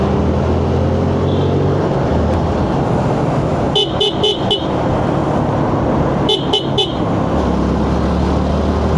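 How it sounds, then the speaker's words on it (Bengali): A car horn gives two loud, close bursts of quick repeated toots over steady engine and road rumble during a Saturday commute through heavy city traffic. "মাঝে মাঝে হর্ন দিতে হয়"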